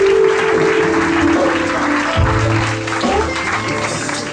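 A church congregation applauds in praise of Jesus Christ, with loud, sustained clapping that runs the whole stretch, mixed with voices and a low musical tone that drops partway through.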